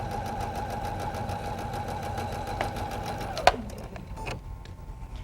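A sewing machine runs steadily as fabric is fed through with a stiletto in front of the presser foot, a continuous whirring hum that ends with a sharp click and a few quieter mechanical taps.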